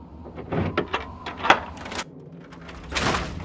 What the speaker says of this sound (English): I'll unlock the door.